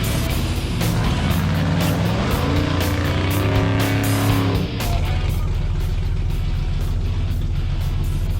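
Two-wheel-drive truck pushing hard through deep river water, engine roaring under load with a rising then falling pitch, churning water noise over a loud steady rumble.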